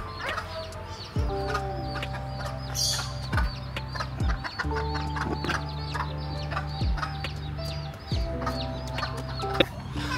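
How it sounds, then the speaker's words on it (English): Roosters cluck and crow repeatedly against a steady background hum at a cafe in Hua Hin, Thailand, several birds calling close by with irregular bursts throughout. "We've got some roosters."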